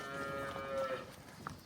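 A cross-breed cow moos once in a long, moderately distant call, quiet against soft farmyard background noise.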